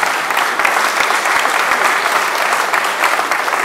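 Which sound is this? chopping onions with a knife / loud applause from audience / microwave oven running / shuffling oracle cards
loud applause from audience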